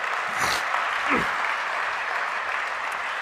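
Sustained applause from a congregation at a Jain religious gathering, dense, even clapping throughout with a faint voice briefly audible over it.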